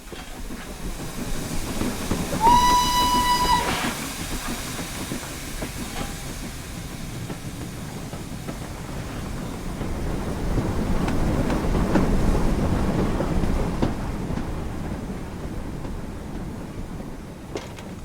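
An LSWR O2 class steam locomotive in Train Simulator, running steadily with continuous hissing steam, rhythmic chuffing and rail clatter, a short shrill whistle blast near the start, and the rumble swelling midway, with no talking.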